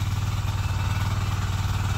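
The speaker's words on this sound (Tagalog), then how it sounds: "On lang natin yung makina" A small engine powering a farm drip irrigation setup runs at a steady idle, a continuous low rhythmic chugging with a faint clatter, close and unchanging with no talk.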